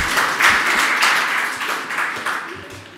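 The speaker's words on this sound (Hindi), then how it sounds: "एक बार तालियां तो बजा दो।" Audience applauding at a Jain religious discourse, a dense patter of many hands clapping together that swells briefly and then gradually fades over a few seconds.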